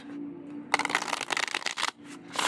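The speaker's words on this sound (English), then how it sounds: "I'm going to show you how the original OG mass market shuffles" A mass market Oriens Animal Tarot card deck being shuffled by hand: a short pause, then a rapid run of crisp riffling card flutters, a brief gap, and another burst of riffling.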